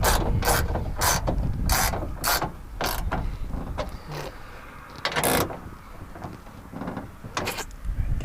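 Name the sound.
fitting and tightening a nut on a bolt in a Mustang door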